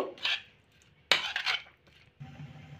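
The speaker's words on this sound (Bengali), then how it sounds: "আবারও উপকরণগুলো সব ভালো করে মাখিয়ে নেব।" Paneer pieces are tossed with salt, lemon juice and spices in a bowl for paneer rolls, heard as a few close clinks and scrapes of a spoon against the bowl separated by short pauses.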